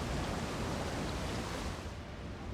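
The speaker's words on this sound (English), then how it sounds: "I would call this a classically beautiful waterfall with a dash of facelessness." Waterfall scenery in The Elder Scrolls Online, in the land of the High Elves, gives a steady, dense rushing roar of falling water that holds evenly and fills the whole moment.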